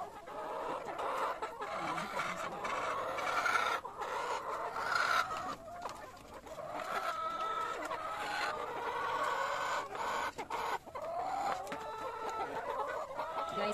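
Hens in an old backyard coop cluck and murmur steadily throughout, with a few louder squawks rising above a busy, continuous chorus of fowl calls at close range.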